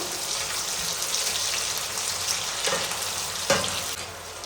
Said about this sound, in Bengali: এবার আমি এতে পেঁয়াজ কুচি দিয়ে দেবো। একটু ভালোভাবে নেড়ে দেব।